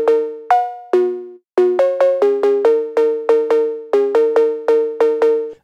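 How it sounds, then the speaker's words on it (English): A synthesized phonk cowbell plays a punchy, bouncing melody of short metallic notes with quick decays, repeating in a steady syncopated rhythm with no voices. "So the cowbell sound sounds like this."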